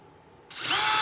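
A power drill bores dowel holes in wood, spinning up abruptly after a half-second of near silence and then whining loudly and steadily close by.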